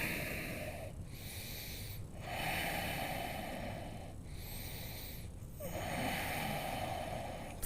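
Deep yoga breathing during a strong vinyasa flow, with slow, loud, close inhales and exhales alternating every second or two, breathy and slightly wheezy, with no talking.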